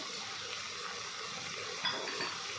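An egg fries in a pan with a faint continuous sizzle, a soft scrape of a utensil breaking in near the end, quiet and with no talk.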